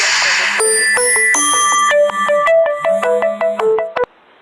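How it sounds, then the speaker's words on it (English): A phone ringtone from an incoming call plays loud and alone for about four seconds, a bright electronic melody of repeating chiming tones with a steady rhythmic pattern that cuts off abruptly at the end. "I had a phone call"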